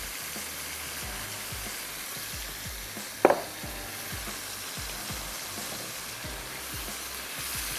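Cooked meat frying in a pot with browned onions and turmeric powder for tikka biryani gives a dense, continuous close sizzle with soft stirring scrapes and one sharp clink near the middle.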